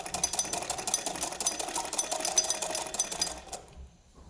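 A sewing machine stitches a garment sleeve in a fast, even mechanical chatter, close and steady for over three seconds before it stops abruptly into near silence.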